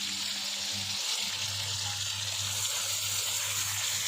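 Chicken pieces frying for Peshawar-style charsi karahi, a steady soft sizzle and hiss throughout with a low hum underneath, no talk.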